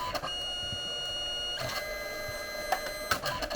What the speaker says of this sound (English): I'm going to print it and then you'll see how it works